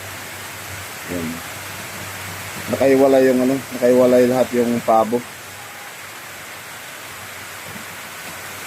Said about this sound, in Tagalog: Talagang sobrang ulan dito sa amin.